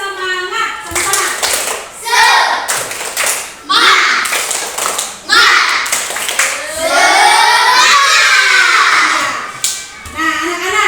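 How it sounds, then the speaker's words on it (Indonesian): An Indonesian primary school class performs a spirited clapping chant together, with children's voices chanting in rhythm over bursts of group claps and taps that start and stop in patterned phrases, close and loud. "ayo tepuk semangat sama-sama."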